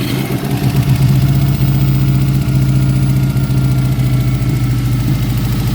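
A blob-eye Subaru WRX engine cranks and catches, then settles into a loud, close, steady idle with a slightly uneven, missing beat.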